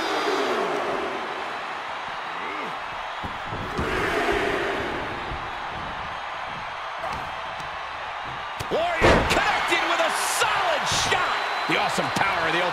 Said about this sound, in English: he slammed his face right into the barricade